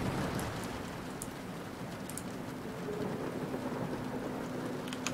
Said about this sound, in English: That's some loud-ass rain.